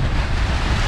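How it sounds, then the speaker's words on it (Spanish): Sea waves and strong wind on the rocky Mykonos coast, a loud continuous roar with heavy wind buffeting the microphone and no voices. "Aquí está el mar."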